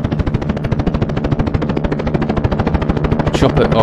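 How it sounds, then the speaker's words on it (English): A helicopter in a dinosaur video game thumps with a fast, steady rotor chop, loud and close throughout, with a brief sharper burst near the end. "Chopper. Oh, it's in trouble."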